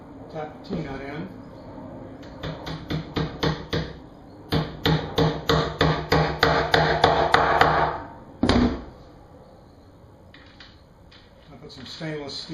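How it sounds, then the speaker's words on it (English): A hammer taps a T-nut into a shop cabinet: a quick run of sharp, close taps that grows louder and faster, ending with one heavier strike, then quiet. "Tap the T-nut in."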